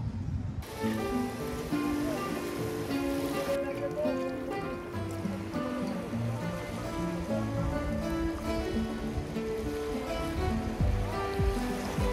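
Sea waves of a rising tide wash onto the beach at Saint Martin's Island around sunset, a steady, unbroken roar of surf with tonal music-like layers running through it.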